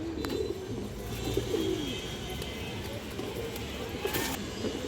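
Pigeons offered for sale, including a Kawa ful pigeon, give soft low coos in a few short phrases, fairly quiet against a faint background hum.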